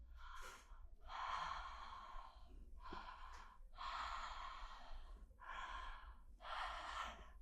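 Slow, deep breaths during a tantra exercise, six long airy inhales and exhales in a steady rhythm, close and quiet with no voice over them.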